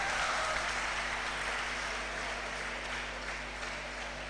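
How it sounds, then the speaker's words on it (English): An audience claps steadily at an annual day function, a soft, even wash of applause that holds throughout and fades slightly toward the end. "a big round of applause for him too"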